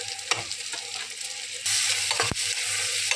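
Ground turmeric, cumin and chili powder fry in a hot pan, giving a steady, close sizzle that gets louder partway through, with stirring scrapes and one sharp clink. No one speaks.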